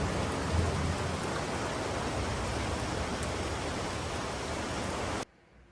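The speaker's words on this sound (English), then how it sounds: "That's some good rain." Heavy rain pours steadily outdoors beside a butterfly enclosure, a dense, even hiss that holds for about five seconds before cutting off abruptly.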